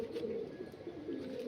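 Kalanka pigeons in a loft give soft, low cooing, a faint continuous murmur of several birds close by with no talk.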